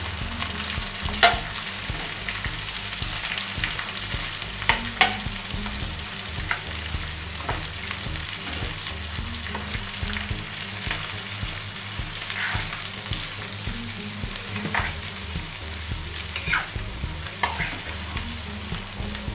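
Sliced onions fry in oil for a mutton curry, a steady sizzle with scattered stirring scrapes and clinks, close and continuous with no voices.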